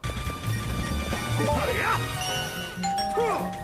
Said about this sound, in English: Every time you get a QTE correct in Sonic Unleashed, you hear the basic ding sound of the doorbell.